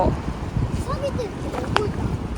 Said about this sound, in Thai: เรือออกแล้ว